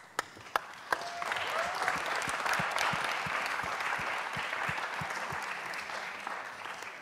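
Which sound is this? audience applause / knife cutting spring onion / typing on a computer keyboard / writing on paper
audience applause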